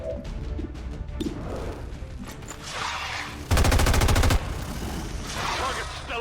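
Gunfire in a military video game: a loud, rapid automatic burst lasting about a second stands out from rumbling battle noise and scattered impacts, with radio voices around it.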